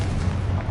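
A Confringo fire spell blast in Hogwarts Legacy, a loud booming burst with heavy low rumble that fills the moment without pause.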